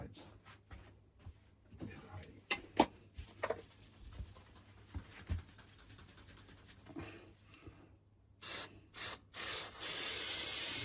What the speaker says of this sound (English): Just a bit of adhesive spray is all, hence the gloves.